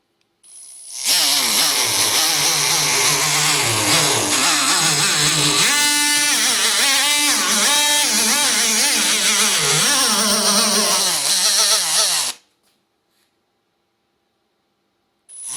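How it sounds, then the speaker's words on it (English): A power sander grinds on the filler neck of a car fuel tank in a single loud, continuous whine lasting about eleven seconds, its pitch wavering as pressure shifts, then it cuts off abruptly. "this is basically the results of having sanded this filler neck"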